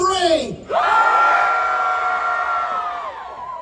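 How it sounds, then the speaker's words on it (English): An audience at the Knott's Scary Farm Nightmares Revealed presentation screams together in one loud, sustained roar after a brief voice, the crowd noise holding for about three seconds before slowly fading. "Can we scream loud enough that he hears us?"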